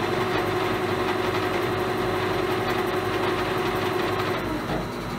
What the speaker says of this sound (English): So the motor's running.